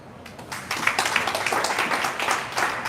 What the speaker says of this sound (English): so you clap for these people here